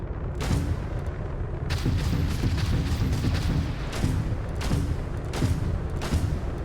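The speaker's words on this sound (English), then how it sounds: "The lasers sound a little chunkier." Chunky laser weapons fire from a ship in a space video game, a series of loud, punchy blasts spaced irregularly over a constant low engine rumble.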